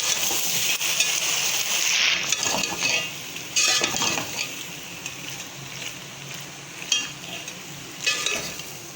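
Penne pasta being stirred with chili sauce and black pepper in a pan, a steady wet scraping and sizzling texture with soft clinks of the utensil, continuous and close, with no voice.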